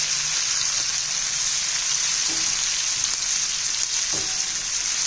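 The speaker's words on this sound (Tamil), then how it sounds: "நல்லா எண்ணெயிலேயே வேகணும்." Dried anchovies, nethili karuvadu, frying in hot oil, giving a steady close-up sizzle and crackle that holds evenly throughout with only a few faint pops.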